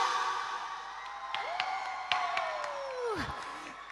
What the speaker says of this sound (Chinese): 您的掌声来